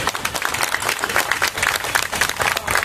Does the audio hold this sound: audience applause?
yes